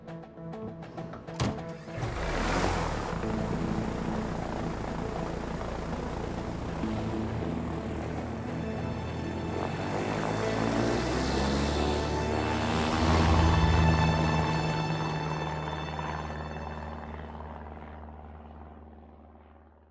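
An airplane engine in the video game A Way Out starts with a sputter, then builds to a loud, sustained propeller drone. The pitch rises and swells toward the middle before slowly fading out. No one speaks.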